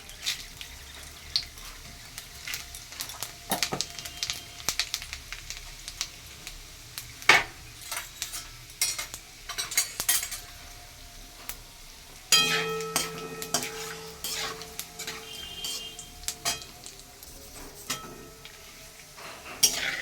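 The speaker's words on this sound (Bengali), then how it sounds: "গোটা ফোড়নগুলো ভাজা হয়ে গেছে।" Whole garam masala spices, two bay leaves and a little cumin frying in oil in a pot, a steady soft sizzle with frequent metallic stirring clinks and scrapes, close and alone without talk.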